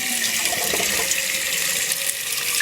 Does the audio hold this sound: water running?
yes